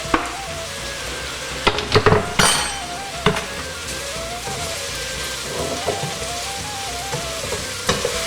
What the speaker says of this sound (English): what I'm going to go ahead and do is add the garlic